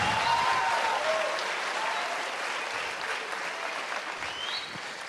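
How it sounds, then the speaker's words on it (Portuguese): A church congregation applauds together, a dense, steady wash of clapping with a few raised voices that eases off slightly toward the end. "Bate palma para Jesus, aplaude Jesus,"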